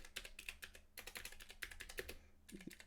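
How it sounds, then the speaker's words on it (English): Short, uneven bursts of keystrokes on a computer keyboard, close and crisp, with brief pauses between flurries as someone types slowly and somewhat clumsily, no voices. "Live streaming some typing. Indeed. Watch me type poorly."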